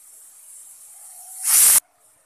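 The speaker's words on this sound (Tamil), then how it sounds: "இந்த தக்காளி, இந்த துவரம் பருப்பு நம்ம கழுவி எடுத்துப்போம்." Tomatoes and toor dal are rinsed under a running tap for idli sambar, a soft steady hiss that swells into a loud, close gush of water for a moment before cutting off.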